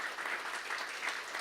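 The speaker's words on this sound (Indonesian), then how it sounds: "Beri tepuk tangan dulu untuk Tuhan." A church congregation claps steadily in a dense, sustained round of applause, with no voices over it.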